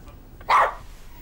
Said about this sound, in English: One bark for yes, two barks for no.